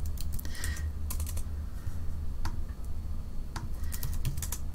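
Keys on a computer keyboard are tapped in irregular bursts of quick clicks with short pauses between, close and fairly quiet, with no talking.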